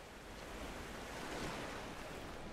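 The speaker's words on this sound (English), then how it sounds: "it rises the water level so I can actually go across" Water rising in the video game Rise of the Tomb Raider, a steady broadband rushing wash like surf, continuous and fairly loud throughout with no talking.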